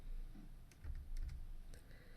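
A few quiet computer keyboard keystrokes tap in short clusters as an exact rotation angle is entered, faint and close.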